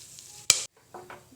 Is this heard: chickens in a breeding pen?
no